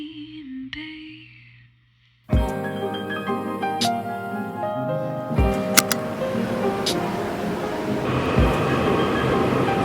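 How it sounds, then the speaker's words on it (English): A train runs in Tainan, Taiwan. After a short quiet gap, a steady close rumble takes over, broken by periodic sharp clunks as it rolls along. "Just hop on the train"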